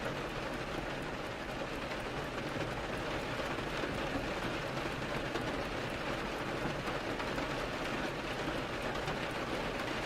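Relaxing rain for sleep falls as a soft, even hiss that stays constant and unbroken throughout, with no voices.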